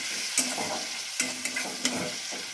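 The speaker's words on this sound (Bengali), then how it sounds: "তেলের মধ্যে দিয়ে দেওয়া হচ্ছে কুচনো পেঁয়াজটা প্রথমে" Chopped onion fries in oil for a prawn and cabbage dish, making a constant bright sizzle up close, broken by several sharp scrapes of a spatula stirring the pan.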